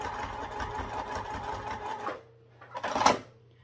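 Rapid steady whirring stitch of a sewing machine sewing zippers on with a half-inch seam allowance, running for about two seconds then stopping, followed by a short mechanical clunk.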